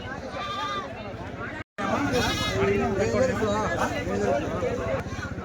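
Goats bleat repeatedly at a busy weekly goat market in Kadiri, several calls overlapping close by while people talk throughout amid crowd noise.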